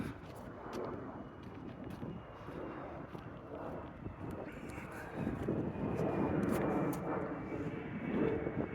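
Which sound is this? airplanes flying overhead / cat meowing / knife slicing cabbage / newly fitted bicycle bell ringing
airplanes flying overhead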